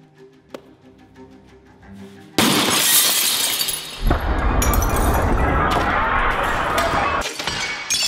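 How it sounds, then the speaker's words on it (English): A stone smashes normal window glass with a sudden loud crash, followed by several seconds of shattering and tinkling shards, after a few quiet knocks. "It's normal glass in here. I can break it quite easily."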